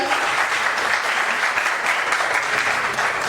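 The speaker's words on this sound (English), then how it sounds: "Round of applause, people." Audience at a corporate awards ceremony applauding, a dense, loud, sustained clapping that fills the room evenly from start to end.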